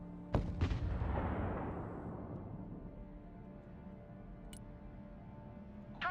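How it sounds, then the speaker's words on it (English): Gunfire from units engaging targets in the Broken Arrow war game: a couple of sharp close shots followed by a long rumbling boom that fades out, then a lone crack and another shot at the end. "Engaging targets with direct fire."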